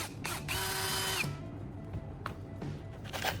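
A cordless power drill running on a revived battery, its motor whirring steadily for about a second, then short bursts and clicks follow, close by with no talk.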